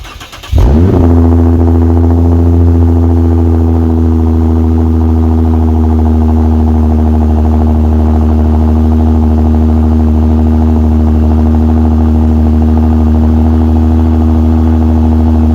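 A Lexus IS350 fitted with a new axle-back exhaust fires up from cold and settles into a loud, steady rumble close by, with a continuous deep engine drone throughout.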